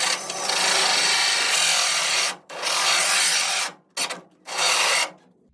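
A drill bores through the wood panel of an IKEA Besta unit, giving a loud, steady rasping grind in long bursts with brief pauses, then two shorter bursts before stopping.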